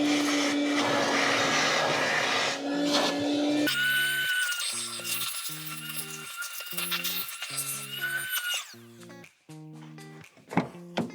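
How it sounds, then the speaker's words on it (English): A vacuum cleaner whines steadily, then switches off, followed by scattered clicks and knocks. "give me a second to get the vacuum out"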